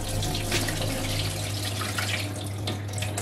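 Mung beans washed in water, with loud, close, continuous splashing and running water over a low steady hum, and no speech.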